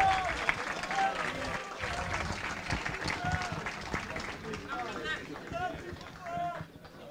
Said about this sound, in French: Donc applaudissez-la